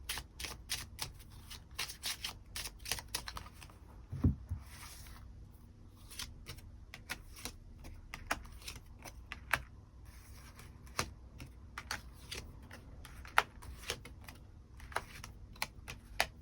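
Tarot cards being shuffled and drawn at a table: a steady run of soft, quick card flicks and taps for a long stretch, close and fairly quiet, with no voices.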